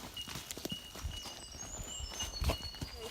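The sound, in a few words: horse walking on a trail, hooves clip-clopping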